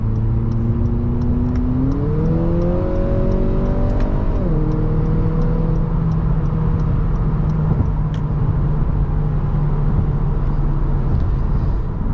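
A 2022 Acura ILX with a naturally aspirated 2.4-litre four-cylinder and eight-speed dual-clutch transmission accelerates while driving. The engine drones loudly, rises in pitch, shifts to a lower pitch, then settles into a steady hum over road noise.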